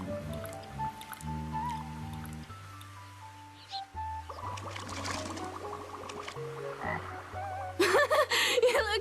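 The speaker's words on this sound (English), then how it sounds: "A frog!" Frog croaking in a cartoon scene: a steady series of low, buzzy croaks repeats in a loose rhythm, fairly close and clear, ending in a burst of splashing.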